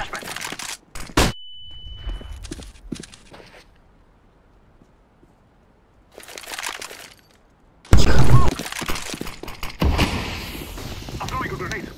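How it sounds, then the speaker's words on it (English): A flashbang grenade in a video game goes off with a sudden loud bang and a crackling, shattering burst, among other sharp in-game impacts and silent gaps. "Throwing a flashbang."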